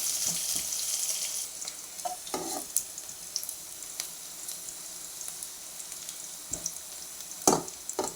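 Onions sautéing in a pan with mustard seeds for a bitter gourd (pavakai) dish, a soft steady sizzle with scattered clinks and scrapes of stirring, alone without talk.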